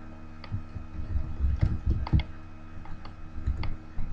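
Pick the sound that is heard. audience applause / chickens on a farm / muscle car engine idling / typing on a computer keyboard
typing on a computer keyboard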